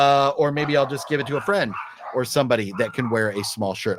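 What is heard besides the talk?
dog barking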